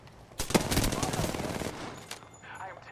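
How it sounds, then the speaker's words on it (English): Rapid automatic gunfire in the Apex Legends video game, a dense burst of shots lasting over a second and a half, close and loud, then tapering into quieter game sounds. "I am taking fire."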